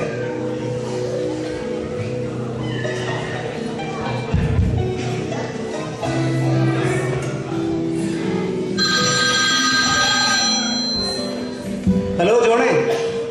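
At a Christmas celebration at St Michael's Church, East Ham, a telephone rings in bright repeating bursts during a phone call, while people talk throughout and background music hums underneath.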